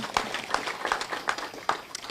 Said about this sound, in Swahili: Tupigie Governor makofi